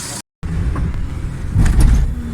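A Suzuki Alto 1000cc car engine idles steadily after a carburetor repair and fuel fault fix, a close, continuous low rumble that cuts out briefly near the start and grows slightly louder toward the end.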